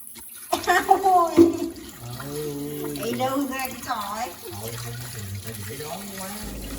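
Tap water runs steadily while dishes are rinsed with a sponge and soap in a rural Vietnamese home. The splashing sits under a prominent voice.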